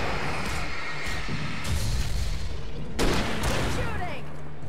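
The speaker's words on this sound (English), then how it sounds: "Shooting." Gunfire in the video game Alan Wake, heavy booming shots cut through dense, noisy game action, with one especially strong blast partway through.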